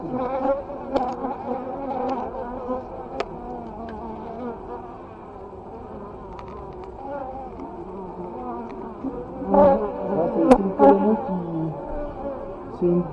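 Bee colony defending its hive, a dense continuous buzzing of many insects close by with individual bees zipping past louder, alongside some faint voice sounds.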